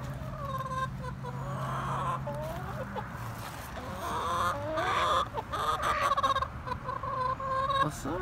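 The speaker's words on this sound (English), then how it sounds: "Oh, look it, we got some chickens." Chickens clucking nearby along an outdoor trail, a steady series of close, loud clucks and calls that grows busier toward the end, with no talk over them.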